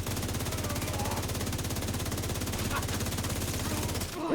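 The St. Elmo's Engine rifle fires in The Division 2, one long unbroken burst of rapid, evenly spaced shots at steady loudness. It cuts off abruptly just before the end.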